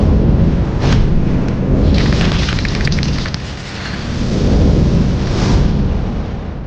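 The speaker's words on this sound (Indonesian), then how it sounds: "Petir surgawi." Heavenly lightning strike in a fantasy battle, a loud sustained thunderous roar with crackling bursts and booming swells rolling across the whole stretch, no voices.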